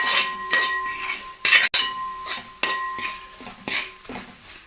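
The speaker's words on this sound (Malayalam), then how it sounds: "ഇളക്കി കൊടുക്കുക" A spoon scrapes and clinks against a pan while onion and garlic-ginger paste are stirred for a prawn idiyappam biriyani, giving irregular close scraping strokes with a soft sizzle underneath.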